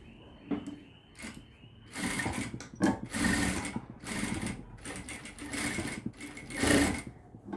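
Sewing machine stitching a blouse, running in short bursts of rapid whirring clatter separated by pauses, close and fairly quiet.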